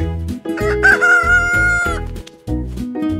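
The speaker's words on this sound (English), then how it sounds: "Interact with the animals to learn their sounds." A rooster crows once, loud and close, in a rising and falling cock-a-doodle-doo, among other rhythmic farm-style sounds in a children's farm animal app.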